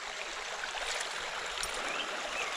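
Creek water pours over a small spillway in a steady, even rush, a continuous close wash of moving water with no voices.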